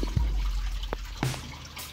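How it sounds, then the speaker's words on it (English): A small, makeshift waterfall trickles inside an enclosure in a reptile room, producing a soft, steady patter of water with a few brief drips standing out. "I got a waterfall going now"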